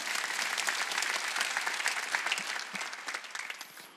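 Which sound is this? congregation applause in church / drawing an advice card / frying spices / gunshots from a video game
congregation applause in church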